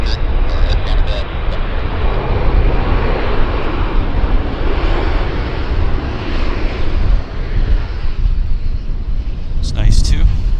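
Fixed-wing airliner taking off at Vancouver Airport, a loud, steady broadband engine roar sustained throughout, with faint talk near the end.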